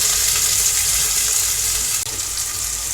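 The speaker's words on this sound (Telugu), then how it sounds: "ఇప్పుడు దూరగా వేగిన ఉల్లిగడ్డలు మంచిగా దూరగా వేగిపోయినాయి" Onions fry in hot oil for a curry, a steady bright sizzle with a faint stir near the end, close and continuous.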